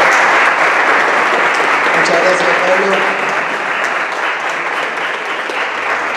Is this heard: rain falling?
no